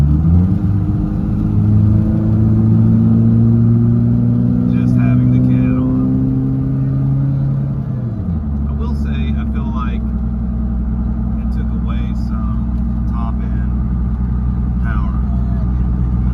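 The exhaust of a 1997 Toyota Tacoma with a 3RZ engine and a MagnaFlow catalytic converter drones steadily and up close, its pitch dropping as revs fall partway through, while a person talks over it.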